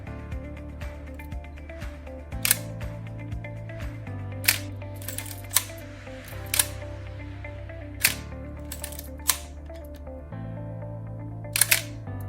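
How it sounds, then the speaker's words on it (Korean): A Pentax KM film camera's shutter fired in B mode, giving repeated sharp mechanical clicks at irregular intervals over a faint steady hum. "B모드는 삼각대 고정해서 야경이나 별 등을 촬영하실 때 쓰이며, 셔터를 누른 동안에 셔터가 열려 있게끔"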